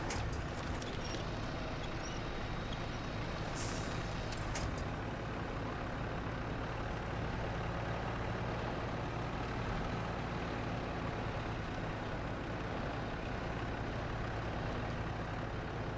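A truck in SnowRunner sinks to its axles in mud, its engine a loud, continuous low rumble that strains steadily throughout, with a few faint higher clanks early on.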